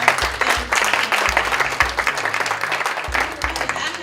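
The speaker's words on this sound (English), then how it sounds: "can we give everyone a round of applause for being here?" An audience at a forum claps in a round of applause, a dense, steady patter with low thumps and crowd noise throughout, fairly close and loud.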